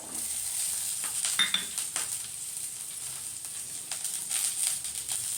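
Chopped carrot and capsicum tossed into a hot pan for vegetable pasta and stirred, giving a steady sizzle with scattered scraping clicks of a spoon against the pan throughout.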